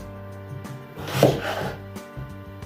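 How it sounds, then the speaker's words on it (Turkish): Knife chopping pumpkin into medium pieces on a board for a Turkish pumpkin dessert, a few soft, dull cuts with a fuller thud cluster in the middle, close and moderately quiet, backed by a low steady hum. "böyle ne iri ne ufak orta kararda doğruyorum"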